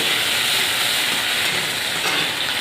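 Chopped onion with bay leaf, dried chilli and nigella seeds fries in hot oil, a loud, dense, continuous hiss and crackle held close throughout, with no talk.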